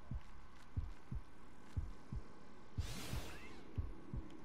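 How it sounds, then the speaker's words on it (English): Frieza's heartbeat in Dragon Ball: The Breakers, a steady low double-thump pulse repeating roughly every half second, with a brief whooshing swell partway through. "Frieza, I can hear his freaking heartbeat"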